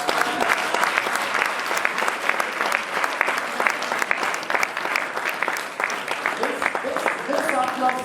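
Loud, sustained audience applause at a competition final in the National Assembly hall in Abuja, with crisp individual claps and voices and a brief tone near the end.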